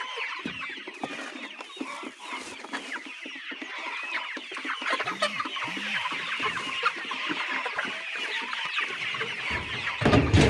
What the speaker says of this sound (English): So Let me first feed the birds and then we shall give them the drinking water later.